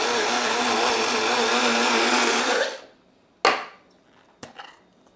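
A kitchen blender whirs loudly through chopped taco salad ingredients with a pinch of salt, then spins down and stops, followed by two sharp knocks of the jar or lid.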